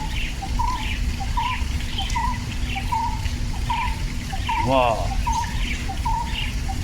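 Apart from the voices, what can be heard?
birds singing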